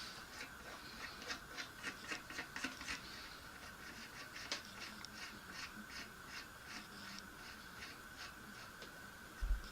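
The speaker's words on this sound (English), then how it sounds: "Remove the lock nut and cone." Two 15mm cone wrenches turn the lock nut and cone off the non-drive side of a BSA 3-speed bicycle hub, giving faint rhythmic metallic scraping and rubbing with a few light clicks, quiet and without talk.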